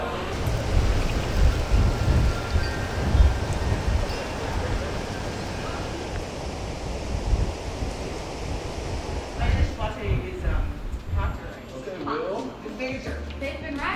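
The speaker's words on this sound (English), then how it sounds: "experiencing some crazy wind" Strong gusty wind roars and buffets the microphone while cycling, a heavy low rumble that rises and falls throughout, with voices faintly audible toward the end.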